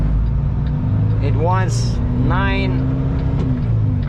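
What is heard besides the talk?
truck engine straining to start in first gear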